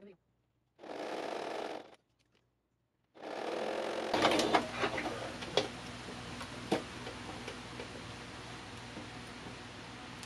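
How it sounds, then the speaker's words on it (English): A sewing machine runs a quarter-inch seam on a fabric stem piece, a short whirr, a pause, then a longer steady mechanical hum with light ticking, close and quiet. "I'm going to run my 1/4 inch stitch right down the side here."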